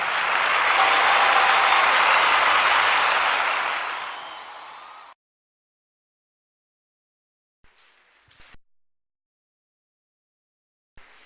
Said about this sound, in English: with a standing ovation and a round of applause, shall we call onto the podium the ministry of the great seer